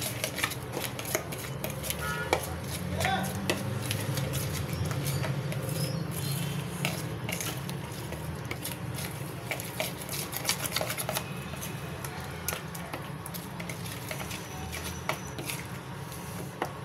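Tikka masala spices being mixed by hand for a chicken marinade, a steady soft shuffling and pattering with scattered light clicks from the bowl, close and fairly quiet, continuing for the whole stretch with no talking.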